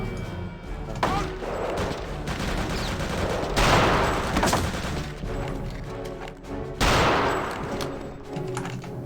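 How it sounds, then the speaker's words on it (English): Gunfire in Return to Castle Wolfenstein comes in dense, sustained bursts, loud and close, with rapid shots blending into continuous rattling broken by short pauses. "You're getting shot at."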